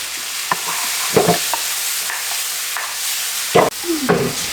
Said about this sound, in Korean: 여기다 양파만 넣고 볶아주면 됩니다